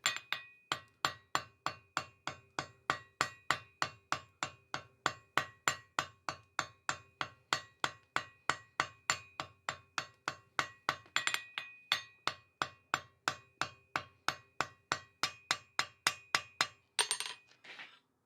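A ball peen hammer shapes a rivet head on blacksmith's box jaw tongs, making a long run of quick, ringing metallic taps at a steady rhythm. The blows are close and loud, with a brief flurry near the end.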